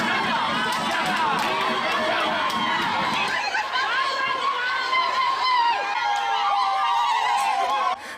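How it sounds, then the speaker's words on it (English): Vendors in a dense crowd chant and shout in jubilation, many voices overlapping in loud, sustained cheering and calling close by, with chatter mixed in. "Vendors chanted praises for the NRM government repeatedly, shouting no change in jubilation."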